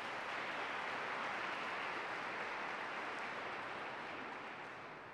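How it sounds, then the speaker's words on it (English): A large crowd applauds continuously, a dense even patter of clapping that slowly fades toward the end. "This is where you applaud."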